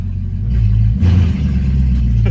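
Deep, close engine note of a Mercedes-Benz C63 AMG rising in a short blip of throttle from idle, then holding a strong rumbling growl.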